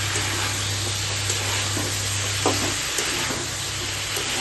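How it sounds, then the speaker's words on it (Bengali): Ridge gourd dropped into spiced oil that has separated for a thin fish curry, a dense close sizzle with a low hum underneath and faint scraping as it settles. "দেখো মশলা থেকে তেলটা ছেড়ে এসছে, এবারে দিয়ে দিচ্ছি ঝিঙেটা"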